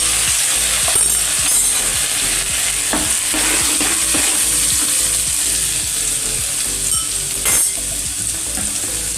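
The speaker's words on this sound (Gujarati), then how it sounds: "તો હવે આપણે આ લસણ ને મરચાંની પેસ્ટ એડ કરી દઈશું।" Garlic and chili paste sizzles hard in hot oil with a steady, loud crackle, broken up by repeated scraping and clicking strokes from stirring.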